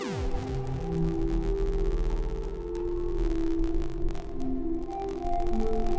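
Simple sine-wave chord progression from Ableton's Wavetable synth, processed through optx and effects including Tromso, Time Safari and Arbor, giving sustained, layered tones with shimmering, smeared harmonics that play steadily and alone throughout.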